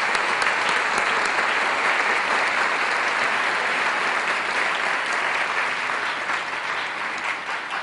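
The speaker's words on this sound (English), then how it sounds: "let's give your parents and your teachers a round of applause." Sustained applause from a large audience at a student awards ceremony, steady clapping that fills the whole stretch without a break.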